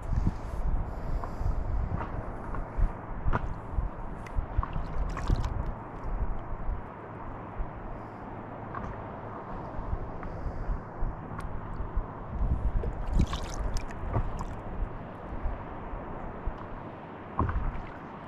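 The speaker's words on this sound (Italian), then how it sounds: "Il dondolio del mare." Sea water gently lapping and rocking around a paddleboard on the Croatian coast near Medolino on a winter day, a steady soft wash with light wind buffeting and occasional small splashes and knocks.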